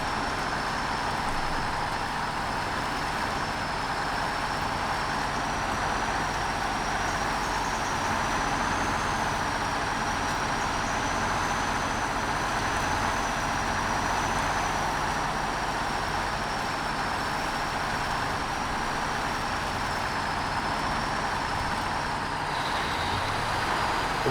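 A heavy truck in SnowRunner drives on, its engine giving a steady, loud, unbroken drone with a faint whine riding above it throughout.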